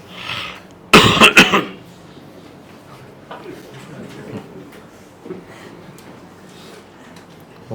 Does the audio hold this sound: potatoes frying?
no